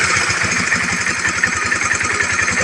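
A Honda CBR motorcycle with a weak battery, left unused for a long time, runs at a steady rhythmic idle after being started with the starter, its pulsing engine note close and loud with no talking.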